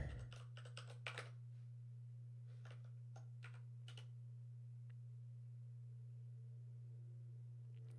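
Quiet clicking of typing on a computer keyboard: a few quick clusters of keystrokes at the start, then scattered isolated taps, over a steady low electrical hum.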